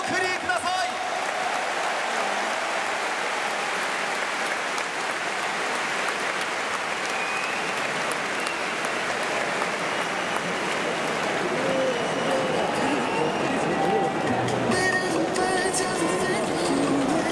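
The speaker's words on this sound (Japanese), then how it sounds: "拍手をお送りください" A packed stadium crowd applauds the Giants during their home-finale league championship ceremony, a vast roaring wash of clapping and cheering that is loud and unbroken throughout, with faint announcer talk and music mixed in.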